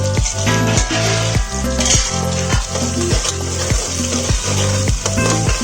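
Onions frying in a pot with cinnamon, bay leaf, peppercorns and cardamom for mutton biryani: a loud, steady sizzle with repeated low knocks and scrapes of stirring roughly every half second, no voices.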